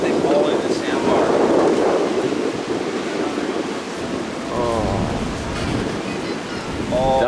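Large ocean waves breaking over a sandbar on a Hawaiian shore during a rising long-period swell, a loud, sustained roaring wash with surging peaks, and voices heard briefly over the surf.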